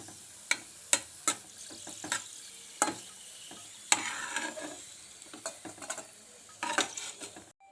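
Vermicelli frying in hot oil in a pan, a soft sizzle broken by repeated sharp scrapes and clacks of a stirring utensil against the pan, close with no talking.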